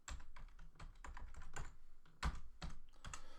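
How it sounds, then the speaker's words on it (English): Quiet, quick keystrokes tapping out a password on a computer keyboard, a steady run of close, soft clicks with one sharper key press near the end. "so you can type in your username and password, in fact just your password."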